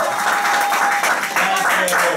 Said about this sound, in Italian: E arrivano gli applausi di tutto San Giacomo.